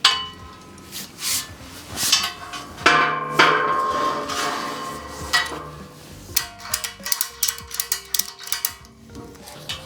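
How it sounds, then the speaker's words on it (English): Ratchet straps clicking while being tightened on a truck build, a run of sharp close metallic clicks and knocks with a hammer-like strike near the start, irregular bursts throughout and no talk. "Maybe a ratchet on each side, and then we can like click, click, click."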